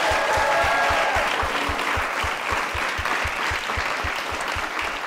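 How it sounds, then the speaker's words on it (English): Audience applause at a late-night comedy show: dense, sustained clapping from a crowd at close range, holding steady throughout with a faint voice at the start. "Can we give another round of applause for Stav, for Charlie and the Piazza Pit?"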